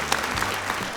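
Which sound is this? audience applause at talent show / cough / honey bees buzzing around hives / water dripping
audience applause at talent show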